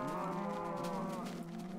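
A cow in a farming video game gives a single drawn-out, tonal moo that stays loud and close for nearly two seconds before tapering slightly.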